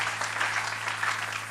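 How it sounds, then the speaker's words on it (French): A church congregation applauding during a French-language service, a brief, soft, steady patter of clapping heard from a distance over a constant low hum. "Applaudissons le Seigneur."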